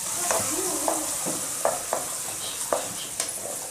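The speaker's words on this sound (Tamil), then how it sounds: "வெங்காயம் சேர்த்து நல்லா வதக்கிக்கலாம்" Small shallots frying in a pan for a goat blood fry, a steady sizzle with repeated scrapes of a spoon stirring, close and alone.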